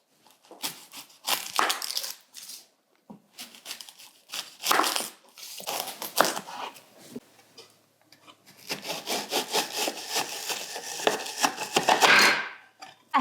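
Knife chopping an onion on a board, a run of irregular cutting strokes and scraping rubs, some quick and clustered, with a denser burst of rapid chopping toward the end; fairly close and moderately loud, no talking.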